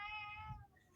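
A house cat gives a single clear meow, close and alone, that fades out after about half a second.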